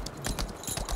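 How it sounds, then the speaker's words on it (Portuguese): Horse hooves clip-clop in the Lost Ark video game, a quick run of soft, evenly spaced thuds over about a second, moderately close and alone. "Cavalo."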